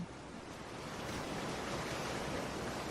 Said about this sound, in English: We'll be tuning into some ocean sounds.